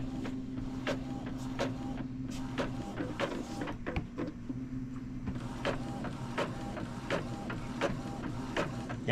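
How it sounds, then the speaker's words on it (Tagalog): An inkjet printer, an Epson L3110-series model, runs a photocopy test with a steady mechanical whir and regular clicking carriage strokes, loud and close, with no talk over it. "para matest natin, magpo-photocopy na lang tayo"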